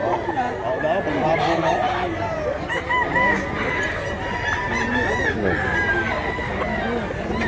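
Rooster with fowl around it on a mountain farm, crowing repeatedly and clucking close up, a loud busy barnyard with people chatting in the background.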